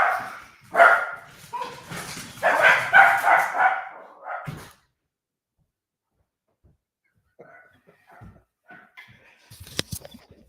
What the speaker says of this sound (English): your dogs will immediately bark 1 second afterwards